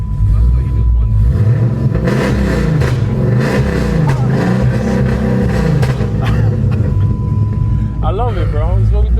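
A V8 Dodge Charger built from a former police car revs hard, the engine roaring loud and close in rising and falling bursts with people talking over it throughout.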